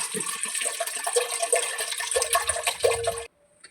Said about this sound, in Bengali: হাঁড়িতে পানি দিয়ে দেবো